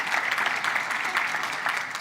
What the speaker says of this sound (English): So just a round of applause, ladies and gentlemen, for all of our partners and our sponsors.